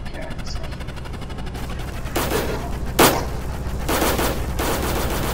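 Anti-air turrets firing in a Roblox war game, heard as bursts of gunfire over a steady hum, with one sharp loud crack near the middle and sustained noisy volleys toward the end.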